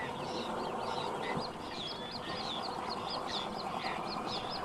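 A dense chorus of birds calls steadily around wooded, sandy river islands in the Chernobyl zone, with repeated chirps and cackling calls over a constant outdoor wash.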